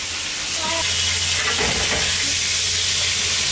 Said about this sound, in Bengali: মাছ ভেজে সেই তেলে পটল ভাজে